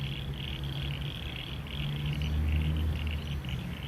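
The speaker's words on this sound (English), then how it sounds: "For such a small animal, frogs are quite vocal, really." Frogs call continuously outdoors by the River Torrens, a dense chorus of croaks and trills with a higher insect-like buzz, steady and moderately loud.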